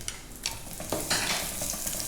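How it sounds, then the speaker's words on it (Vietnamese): Garlic sizzles in a little oil inside a clay pot while it is stirred, giving a steady close hiss broken by scraping and clinking of the utensil against the pot. "Mình phi cái tỏi cho nó thơm nhé."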